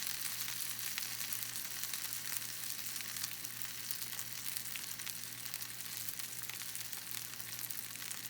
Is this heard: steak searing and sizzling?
yes